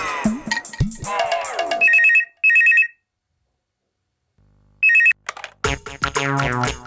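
An electronic phone ringtone sounds in a few short bright bursts separated by silence, following and then giving way to people talking in a Malayalam TV comedy scene.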